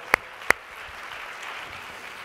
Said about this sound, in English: That's right, a round of applause.